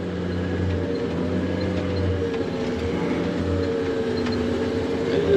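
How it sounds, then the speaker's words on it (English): A six-wheel drive machine turning while digging a large pond, a loud steady engine drone with a low rumble and faint mechanical whine, continuous and close, swelling slightly at the end. "It does not turn very well in 6-wheel drive."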